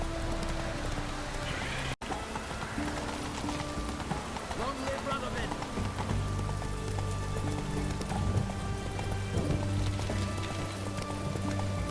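Roach the horse galloping in The Witcher 3, Hearts of Stone: steady rhythmic hoofbeats throughout, close, with a rain-like wash and game music underneath and a voice speaking over it.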